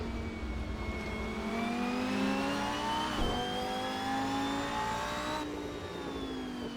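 A race car engine in the video game Assetto Corsa on PS4 revs high and steady, pitch climbing smoothly through the gears with a brief shift midway, loud and continuous with no talking.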